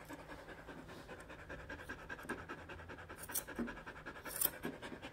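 An Australian Labradoodle pants steadily and close by while being groomed, its quick breathy rhythm continuing throughout, with a brief faint scratch near the end.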